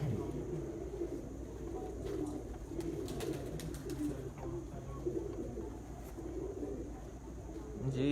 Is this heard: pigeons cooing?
yes